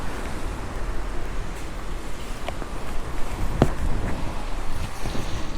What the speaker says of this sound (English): It's not even raining really, it's just wind.